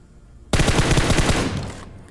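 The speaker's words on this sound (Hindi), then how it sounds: "तो थोड़ा सा प्री फायर उसे डराने के लिए" Pre-fire in a squad-based shooter video game, meant to scare an enemy in a house: a close, loud burst of rapid automatic shots lasting about a second before cutting off abruptly.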